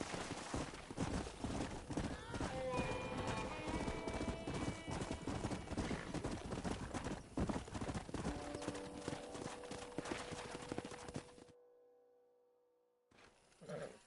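Horse hooves clip-clop in Red Dead Redemption, a steady rhythmic trot close by with a whinny early on, continuing for about eleven seconds before cutting to near silence, then a short burst returns.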